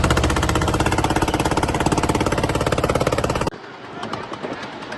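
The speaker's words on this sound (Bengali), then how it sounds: "এই যে আমাদের ট্রলার ছেড়ে দিয়েছে" A trawler's engine thumps loud and close in a fast, steady chugging rhythm as the boat leaves for the river and sea crossing to Maheshkhali island, then cuts to quieter wind and water rumble with faint knocks.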